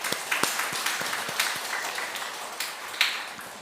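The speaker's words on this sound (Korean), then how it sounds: "이렇게 함께 위로와 격려의 박수 드리겠습니다" Applause rises from worshippers at a Sunday church service, with a few sharp separate claps at the start, then a thinner, uneven patter of hands that trails off.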